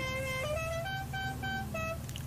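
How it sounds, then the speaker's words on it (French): Several racing car horns honk in a series of short and sustained toots, some overlapping, over a steady engine rumble in the background, after a GT4 race. "des pilotes qui klaxonnent."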